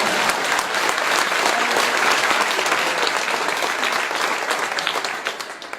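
Audience applause in a hall during a religious discourse, dense steady clapping from many hands holding loud for about five seconds before thinning slightly at the end, with no voices over it.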